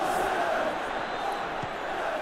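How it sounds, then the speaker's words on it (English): A football stadium crowd roars steadily through an Arsenal versus Manchester United match in a football video game, a dense, sustained wash of cheering with no distinct voices. "Crowd appreciates good football all round there."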